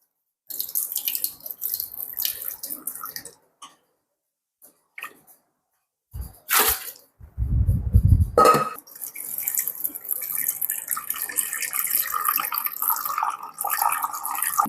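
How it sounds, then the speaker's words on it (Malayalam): Water from a tap running into a cooking pot, starting as a thin hiss, pausing, then a loud gush with low splashing before settling into a steady filling stream. "ചെരുവത്തിനകത്ത് കുറച്ച് വെള്ളം പിടിക്കണം ഫസ്റ്റ്"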